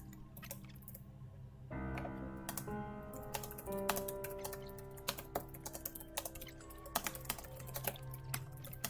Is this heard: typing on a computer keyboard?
yes